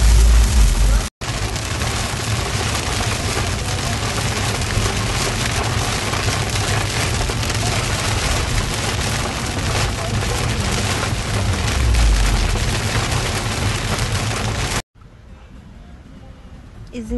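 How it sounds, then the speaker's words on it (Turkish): Heavy rain pounds hard and continuously, a loud dense roar with a low rumble beneath, cutting off abruptly to a quieter hum near the end. "acayip yağmur var"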